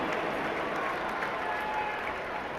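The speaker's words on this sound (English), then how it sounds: "Dowling fans seated in front of us and on their feet trying to cheer on the defense" Crowd noise from Dowling Catholic fans at a Class 5A semifinal high school football game, a steady roar of cheering and clapping that fills the stands without letup.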